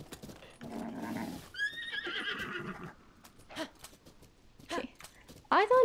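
A horse in the game Zelda: Tears of the Kingdom neighs in several short, rising whinnies mixed with hoof clatter and game sounds, with a louder sharp whinny at the end, while a person talks and gasps over it.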